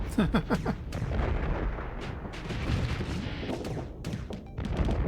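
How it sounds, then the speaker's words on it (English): Plasma cannons firing in the space combat game Starsector, a rapid barrage of heavy booming blasts and crackling bursts layered over one another, loud and continuous without pauses. "Plasma cannons."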